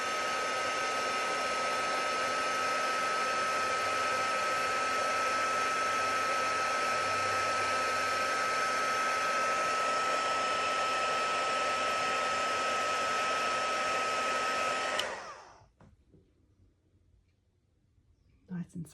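A hair dryer blows steadily and loudly at close range while drying off small items, with a constant whooshing motor hum, then switches off abruptly, leaving near silence and a few faint handling noises.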